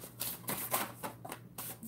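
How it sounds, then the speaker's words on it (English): Tarot cards are shuffled by hand in quick, soft riffling bursts, a close, quiet series of brushing flutters separated by short pauses. "Some cards I shuffle until I hear it stop"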